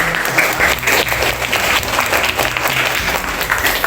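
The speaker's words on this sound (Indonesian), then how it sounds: "Tepuk tangan untuk kelas 8R." A class of school pupils gives a round of applause, steady dense clapping from many hands filling the room at close range without talk.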